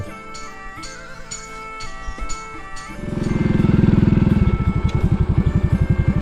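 A motorbike ridden through a traditional old-style village on the Laos–Vietnam border, engine popping and clattering, then swelling into a loud rapid throb as it revs, with sharp ticking sounds early on.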